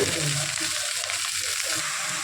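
Chopped onion frying with mustard seeds in a pan makes a loud, constant close-up sizzle and hiss for a couple of seconds with no voice over it.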